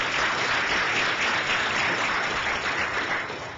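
An audience at a Japan–U.S. society event gives a round of applause, dense and steady clapping throughout, fading slightly at the end.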